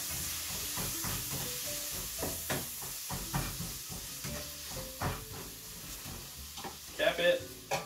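Taco filling sizzles steadily in a pan while seasoning is stirred in, with scattered utensil scrapes and clinks over a constant frying hiss, and a few louder clatters near the end.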